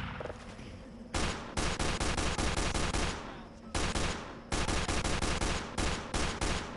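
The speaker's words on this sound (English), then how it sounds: "You can only shoot the pistol." Pistol gunshots in a video game come in rapid bursts of sharp, loud cracks, several quick volleys separated by short pauses, with a faint background hum and no talk.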